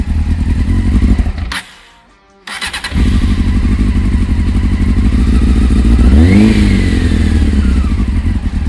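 Loud, close Honda Hornet motorcycle engine, newly repaired, running at a steady idle, cutting out for a moment and catching again, then revving up in a rising sweep before settling back.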